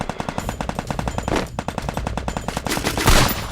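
Rapid automatic gunfire from a Free Fire mobile battle royale match, a dense run of sharp evenly spaced shots rattling continuously throughout, growing louder and heavier near the end, with no talking.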